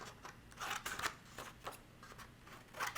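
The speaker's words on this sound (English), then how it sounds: "I'm just cutting it outside just a little bit" Scissors snip through origami paper while a modular hexagon pencil holder is being trimmed, giving several quiet, close, crisp cuts in a short uneven rhythm with no talking.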